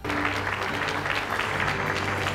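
Crowd at a White House event celebrating the health care bill applauds Barack Obama as he takes the stage, a steady dense patter of many hands clapping throughout.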